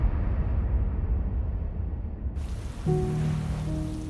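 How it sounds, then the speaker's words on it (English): Steady rain hisses and patters on a surface, continuous and fairly close, with a faint low tonal hum joining partway through. "As the rain began to pour, Chris paced down the shore wondering"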